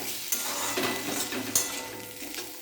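Potatoes frying in a pan get stirred with a utensil, giving a steady hiss of sizzling oil broken by a few sharp scrapes and taps against the metal, close up and without speech.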